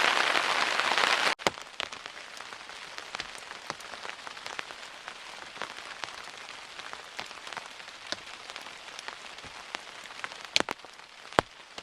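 Steady rain falls on a campground, a dense continuous patter with sharper drips landing on a nearby surface, probably a tent or tarp, all through and with no voices.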